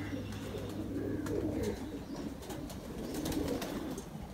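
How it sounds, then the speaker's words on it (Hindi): Golden pigeons cooing in low, soft, rolling murmurs that continue throughout, with faint background noise and occasional clicks. "बहुत शानदार कबूतर है जी"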